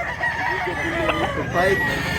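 A rooster crows at a gamecock market in Mantalungon, Barili, Cebu, a single drawn-out call rising over a busy crowd murmur, with other fowl clucking nearby and voices in the background.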